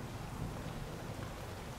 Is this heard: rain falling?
yes